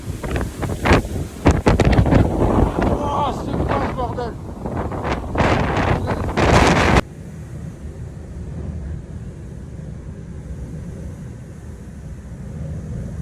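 Strong wind buffets the microphone in loud, gusty bursts with a person speaking briefly, then the roar drops to a steadier, quieter rush, at the San Adrián tunnel.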